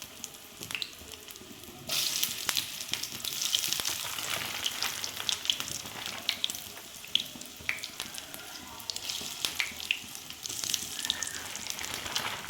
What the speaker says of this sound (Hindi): ये मीडियम फ्लेम पे मैं इनको बनाऊँगी। अच्छी तरह से फ्राई करूँगी दोनों साइड से।